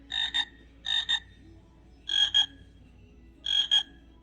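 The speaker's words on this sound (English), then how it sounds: "we've had the frogs visit a couple people" Frog croaks outdoors at a cross-stitching camp, four evenly spaced double-pulsed calls, each sharp and fairly close, separated by quiet gaps.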